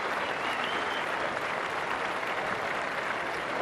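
At a grass-court tennis match at Queen's in 2008, a crowd applauds steadily and loudly, a dense, even wash of clapping that holds for the whole few seconds with no talk over it.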